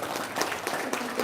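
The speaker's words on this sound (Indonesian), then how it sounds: "Tepuk tangan dulu." An audience claps in a short, brisk burst of dense applause, evenly loud throughout.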